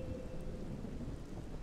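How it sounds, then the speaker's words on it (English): Steady rain with low thunder rumbling underneath in the game Morrowind, a soft, constant wash of sound without breaks. "Fine, it's raining."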